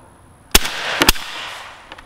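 Molot VEPR-12 shotgun fitted with a SiCo Salvo suppressor firing old light target loads outdoors, one sharp report and then two closely spaced shots, each leaving a brief echoing tail.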